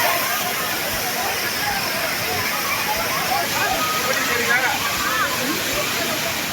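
Thirparappu waterfall pours steadily with a loud, continuous rushing roar where families bathe, a dense wash of water noise with faint voices mixed in underneath.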